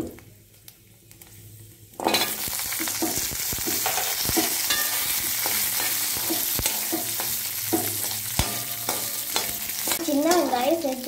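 Small shallots and garlic frying in a pan for a Tamil mint chutney, a loud steady sizzle that starts abruptly after a quiet moment, with utensil scrapes and clinks of stirring throughout.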